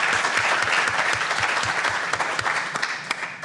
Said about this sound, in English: could we give them a hand of applause again?